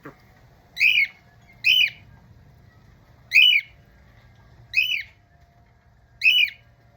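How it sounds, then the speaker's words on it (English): A pet bird squawks loudly at crows in five evenly spaced harsh calls, each about half a second long, close by over a quiet low background with no talking. "Little Bo, are you talking to the crows?"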